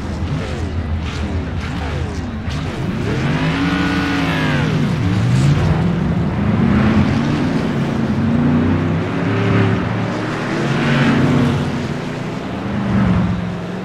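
Modified race cars fire up and rev at Lanier National Speedway during a King of the Modifieds event, a loud, continuous engine roar with rising and falling revs and one car sweeping past.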